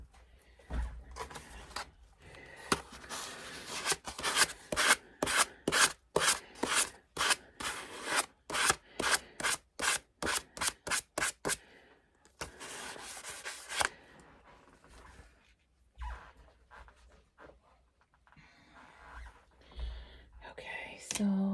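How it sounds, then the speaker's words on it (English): Oil paint being scraped off a canvas, a run of rapid, rhythmic rasping strokes up close, then slower, scattered scrapes with quiet gaps. "so I can't scrape and remove a lot of paint"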